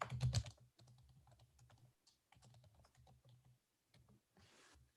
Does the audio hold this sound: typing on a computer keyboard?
yes